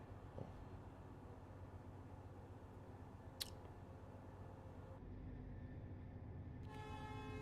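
Train horn in the railway simulator game Train Life: A Railway Simulator, a steady tonal blast that sustains over the last seconds above continuous low rumble of the moving train, with a brief hiss earlier.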